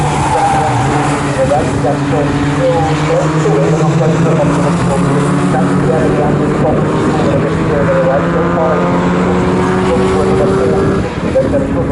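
Mini Seven race cars howl past the start-finish line at Snetterton, engines loud and continuous with rising and falling pitch as they pass close by, under steady commentary.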